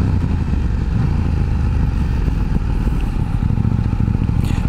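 A KTM 890 Duke R naked motorcycle rides over uneven, bumpy ground, its engine droning loud and steady up close, with rattling and clatter from the suspension and wind mixed in.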